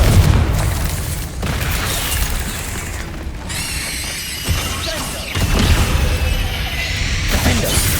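Confringo spell explosions during combat in the Hogwarts Legacy video game, a dense stretch of loud booms, crashes and blasts layered over each other, close and continuous with a few sharper impacts.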